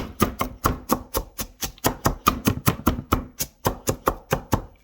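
A large knife chops a pile of shredded cabbage for coleslaw on a cutting board, with steady rapid strokes of about three per second that stay close and crisp the whole time.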